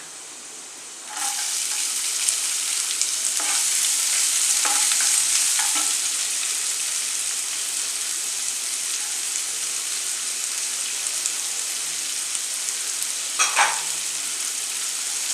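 Sliced onions drop into hot oil in a pan for a Kerala tomato rice and sizzle loudly, with a steady crackling hiss and a few scraping stirs of a spatula, no voices.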